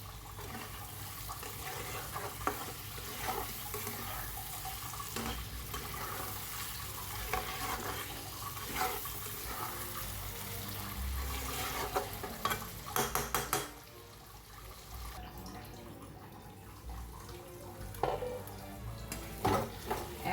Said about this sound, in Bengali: টমেটো দিয়ে এবার ভাজা ভাজা হবে একদম টমেটোগুলো